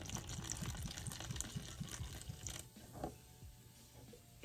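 Thick clay hair mask mixture poured into a bowl, a wet gushing and splattering stream for a few seconds that thins out toward the end, close and alone.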